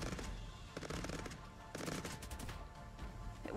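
Rapid bursts of automatic gunfire in the strategy game Cepheus Protocol, loud dense volleys of machine-gun shots that rattle on continuously with short pauses between bursts.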